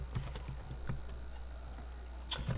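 Quick keystrokes on a computer keyboard while writing Java code, a few scattered clicks in short bursts at close range, separated by brief pauses in a quiet room.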